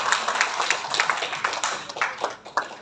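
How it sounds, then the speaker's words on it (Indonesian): A small seminar audience claps in a brief round of quick, distinct handclaps, fairly close and uneven in rhythm, with a few louder claps near the end. "Terima kasih, tepuk tangan."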